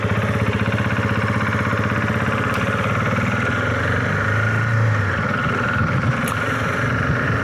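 KTM 690 Enduro R single-cylinder motorcycle ridden off-road in rally mode with traction control off, a steady close engine drone with slight rises and dips throughout, no voices.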